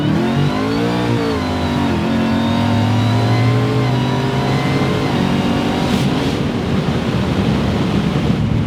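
A supercharged 900-horsepower Mercury Marauder V8 with a 10-speed transmission accelerates hard, its engine note climbing steadily in a loud, close, continuous roar that lasts throughout.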